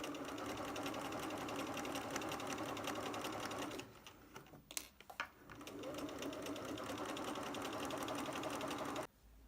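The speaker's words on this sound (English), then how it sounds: "Take a couple stitches forward, and then we back stitch, and continue going." A sewing machine runs steadily in a fast rapid stitching rhythm, stitching forward and back-stitching, pauses briefly for a few clicks, then stitches on before stopping abruptly.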